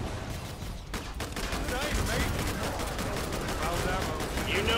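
Rapid machine gun fire in the video game Killing Floor 2 rattles in dense, continuous bursts, loud and close, with players talking over the shooting.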